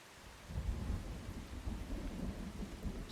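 Thunder rumbles deep and rolling through steady rain in a video game, the low boom building after a half-second of quiet rain and lingering over the soft patter.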